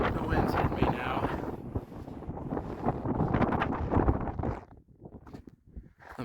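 Strong wind buffets the microphone on a Colorado fourteener summit, Mt. Yale at 14,196 feet, roaring loud and close for several seconds before easing into quieter gusts.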